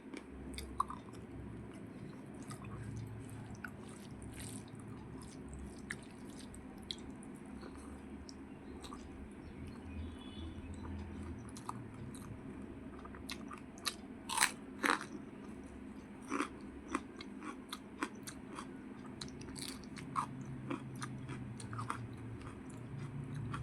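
Someone eats rice with crispy water lily stem fritters in quiet, close-up crunching and chewing, with irregular bites and crackles spread across the whole stretch and no talk.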